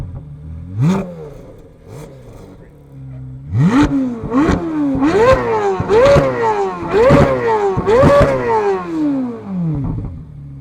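A loud, harsh straight-piped Chevrolet C8 Corvette Z06 engine revs in repeated sharp bursts, rising and falling about six times with a crackling, raspy exhaust note, close to the microphone.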